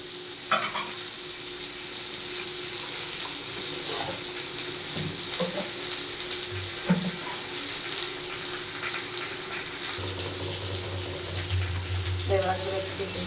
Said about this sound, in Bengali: তার সাথে সিমগুলোও দিয়ে দিচ্ছি, একদম ভেজে নিচ্ছি